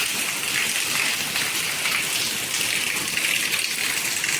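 Heavy rain pours down in a dense, steady hiss, drumming constantly on surfaces nearby with no pauses.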